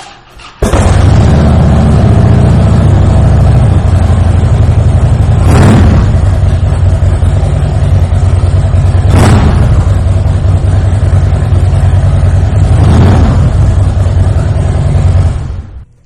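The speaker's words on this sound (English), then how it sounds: "that exhaust sounds incredible on this bike" A 2009 Harley-Davidson Softail Night Train with custom exhaust idles loud and close with a deep, rumbling exhaust, punctuated by three sharp blips of the throttle.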